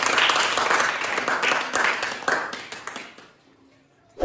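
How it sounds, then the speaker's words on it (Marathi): An audience applauds loudly for a player after a matchstick arrow puzzle game, steady dense clapping that gradually thins out and fades, with a final isolated tap at the end. "पुन्हा एकदा पांडूसाठी जोरदार टाळ्या होत्या"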